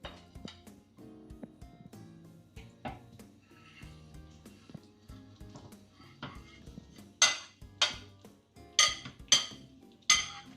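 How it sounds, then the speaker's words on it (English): A pan is set back on the heat and a half-cooked Spanish potato tortilla, tortilla de patatas, is slid back in. Soft kitchen clatter builds to several sharp, close metallic clanks and scrapes near the end. "I'm going to put the pan back on the heat and return the tortilla to the pan very carefully"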